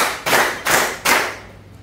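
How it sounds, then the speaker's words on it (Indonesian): Firm hand claps in a classroom clapping game, three sharp, evenly spaced claps ringing out close and loud with brief gaps between them, then quiet. "tepuk empat"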